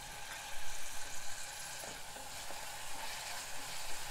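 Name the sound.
onions frying in a pan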